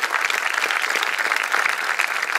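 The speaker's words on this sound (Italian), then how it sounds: "ai quali rivolgerei un caloroso applauso" An audience applauding warmly at a memorial concert by Don Tonino Bello's tomb, a dense, steady clapping from many hands that fills the whole moment.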